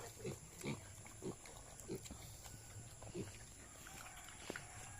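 A pair of recently weaned piglets feeding side by side on a farm, giving a series of short grunts and snorts at irregular intervals over a quiet background with a faint high whine.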